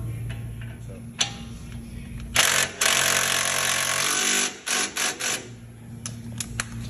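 A power tool tightens a bolt on the suspension of a 2017 Nissan Titan Platinum during a leveling kit install, with a loud two-second burst in the middle and a few shorter bursts and ticks around it.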